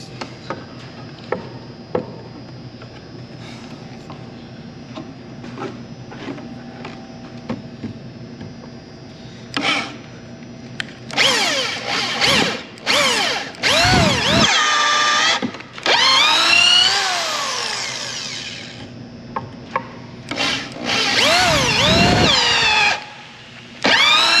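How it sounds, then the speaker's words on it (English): Power drill whirring in several loud bursts, boring into a wooden shelf, with quieter pauses and handling noise between them. "I'm going to drill that out just a little bit more."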